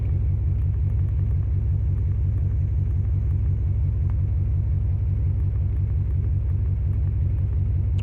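A Dodge Ram 2500 second-generation truck with a 360 Magnum engine idles steadily, a continuous low rumble held close and even throughout, with no voices.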